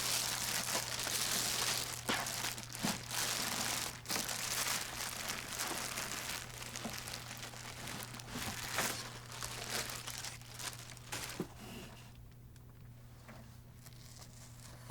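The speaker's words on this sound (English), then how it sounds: "Remove the printer from the plastic bag." Continuous crinkling and rustling of a plastic bag as an HP DeskJet GT printer is removed from it, close and busy, with sharp crackles throughout before it quiets toward the end over a faint hum.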